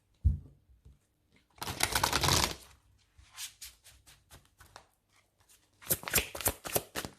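Tarot cards shuffled by hand for a Gemini monthly reading, heard as several brisk riffling bursts separated by short pauses, close and fairly loud, with no talking.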